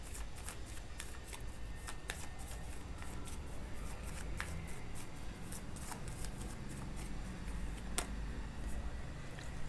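Tarot cards shuffled by hand close up, a dense run of papery riffling and sharp little clicks continuing steadily for several seconds with no one talking.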